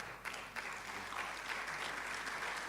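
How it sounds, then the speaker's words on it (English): Audience applause at a public medical lecture in Ghana, a steady wash of clapping from a seated crowd that holds evenly for nearly three seconds at moderate distance. "Let's clap for her."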